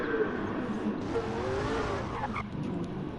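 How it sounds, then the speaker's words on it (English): A car does burnouts at a meet with other performance cars nearby, tires squealing and skidding over a steady engine roar, fairly loud and continuous. "Mad burnouts, man. So much power."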